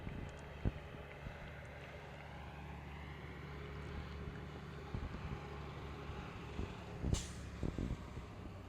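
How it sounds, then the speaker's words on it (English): Low rumbling traffic drones in the distance, with heavy trucks passing and a sharp hiss like an air brake near the end. "A lot of background noise. Trucks now."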